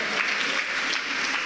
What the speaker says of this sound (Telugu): దేవుడు చేసిన స్వస్థతను బట్టి గట్టిగా చప్పట్లు కొట్టి గట్టిగా.